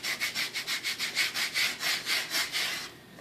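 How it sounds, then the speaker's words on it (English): A transfer tool is rubbed firmly back and forth over vinyl lettering, about a dozen quick rhythmic scraping strokes close by, then stopping. "rub the front side of the lettering again with the transfer tool or whatever type of scraper you're using"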